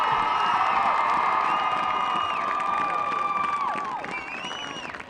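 Crowd cheering and applause in a high school football stadium during a playoff game, honoring a championship girls soccer team at midfield; steady broad roar with shouts and whoops, fading slightly toward the end.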